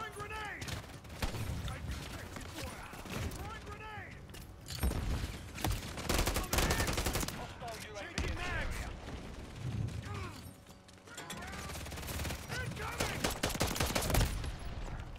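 Shooting video game gunfire crackles in rapid bursts and fusillades over a constant backdrop of game sounds and a talking player.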